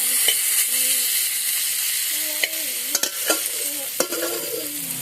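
Hilsa curry with wild taro is sautéed in a pan, a close, continuous sizzle with scraping stirring strokes and a few sharp utensil knocks against the pan, and faint background tones underneath.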